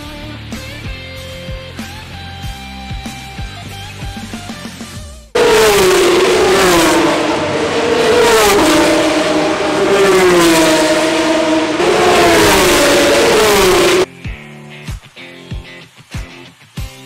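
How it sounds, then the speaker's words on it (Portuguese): Formula 3 single-seater race cars at the Spanish Grand Prix roar loudly through the middle stretch, engine pitch rising and falling as they pass, with quieter rhythmic sounds before and after. "ainda conseguimos ver um bocadinho de Fórmula 3, realmente os carros fazem imenso barulho."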